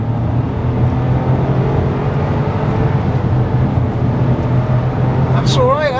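Smart Brabus 450 ForTwo engine droning steadily after a downshift on a steep downhill road, a loud constant rumble filling the cabin, with a brief squeal near the end.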